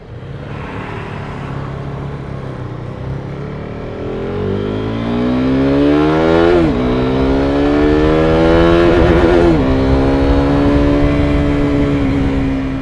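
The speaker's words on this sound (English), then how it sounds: "So let's recap the KTM RC390. It's a fun little sport bike." A 2015 KTM RC390 single-cylinder sport bike revs steadily, with the engine note climbing through the gears and holding at a loud, close drone with no speech over it.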